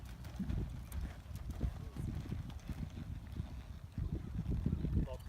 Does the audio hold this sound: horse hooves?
yes